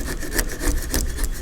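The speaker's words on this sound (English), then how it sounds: "take one of your chisel sticks and remove the old sealant" A chisel stick scrapes old sealant from the windshield opening of a 1973-1987 Chevy truck, giving steady, close rasping strokes that repeat in a rough rhythm with no talk.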